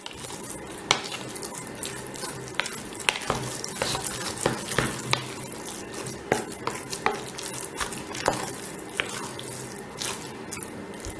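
Glittery Barbie Gelli Baff slime is stirred: wet squelching and sloshing with sharp clicks of a utensil against the container in an irregular rhythm, close and fairly loud, with no talk.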